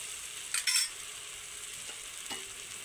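Chicken roll filling sizzles in a frying pan while it is stirred, a soft constant frying hiss broken by a couple of sharp metallic scrapes and taps from the spoon, close and without speech.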